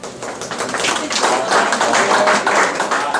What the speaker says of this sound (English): by round of applause